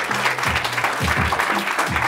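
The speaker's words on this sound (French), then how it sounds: "Applaudissez." An audience at a press conference claps on cue, a steady burst of applause lasting about two seconds with a few low voices underneath.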